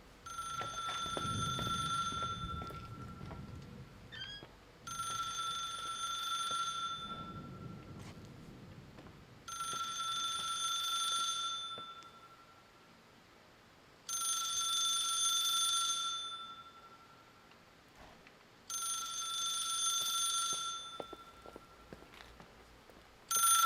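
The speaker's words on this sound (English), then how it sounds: "When the phone rings, you gotta answer it." An old-fashioned telephone rings in a hotel in the video game The Suicide of Rachel Foster, five evenly spaced bright trilling rings with quiet gaps between them, loud and alone.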